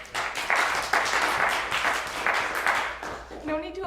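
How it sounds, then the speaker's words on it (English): Audience applause at a poetry reading, a moderate burst of clapping with a few louder swells that fades out as a voice begins to speak at the end. "No need to applaud yet, it's still a work in progress"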